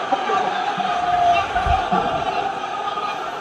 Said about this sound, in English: That crowd's crunk too.